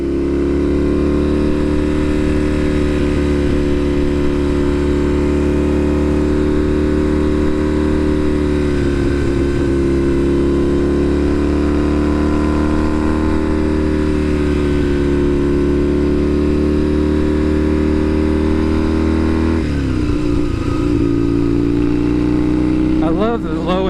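Kawasaki KZ750 twin-cylinder scrambler motorcycle pulling uphill on a street ride, its engine droning loudly and steadily with a deep throaty pulse, and someone talking over it throughout.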